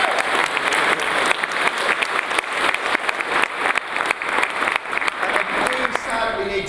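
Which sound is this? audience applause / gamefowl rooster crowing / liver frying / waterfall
audience applause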